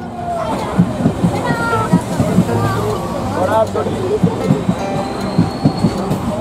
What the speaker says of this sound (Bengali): প্রবেশ করছে রায়নগর স্টেশনে।